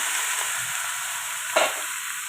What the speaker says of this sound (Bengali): কাঁচা লঙ্কা দিলাম, এই দেখো এবার লাউটা ঢেলে দিলাম।